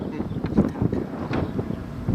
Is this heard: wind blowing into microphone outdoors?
yes